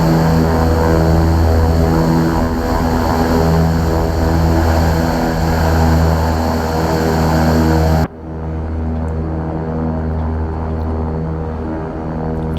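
Steady, loud propeller drone of a King Air 350 turboprop taxiing in the X-Plane 11 simulator, a continuous tonal engine hum that drops abruptly in brightness partway through as the sound shifts to a lower, duller rumble.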